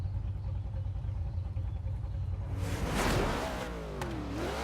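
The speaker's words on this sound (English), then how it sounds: "Love the sound of the engine." A Dodge Dart in Forza Horizon 3's uphill climb challenge idles low, then launches into a sharp, loud rev that rises and sweeps through the gears.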